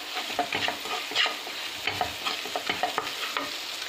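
Chili powder fries in an oily pan while a spoon stirs it, giving a steady close sizzle broken by light scraping strokes, with no talking over it.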